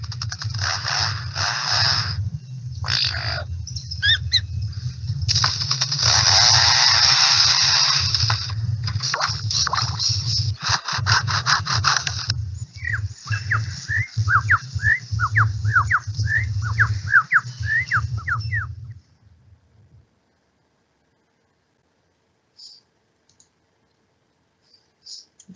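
A lyrebird mimics foresters' chainsaws working nearby, a loud buzzing roar with rapid clicking and ticking bursts that gradually thin out before ending in near silence.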